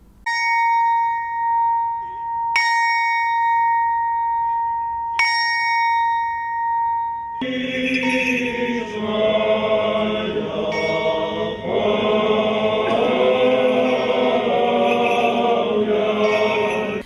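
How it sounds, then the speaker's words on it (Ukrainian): A symbolic memorial bell rings in a memorial square in Ivano-Frankivsk, with three loud, clear strikes that each hum and fade before music takes over. "Кожного місяця в Івано-Франківському меморіальному сквері звучить символічний дзвін пам'яті"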